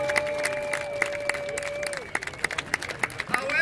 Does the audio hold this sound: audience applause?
yes